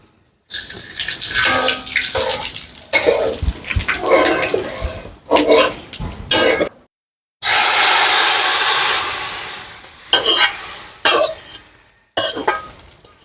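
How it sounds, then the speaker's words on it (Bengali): Panch phoron spices crackling in hot oil with bay leaf and dried chilli for khichuri, loud hissing sizzle in bursts broken by short silences, one long sustained stretch in the middle. "তেজপাতা আর শুকনা মরিচ আমার বাজা হয়ে গেছে এখন আমি পাঁচফোড়ন দিলাম"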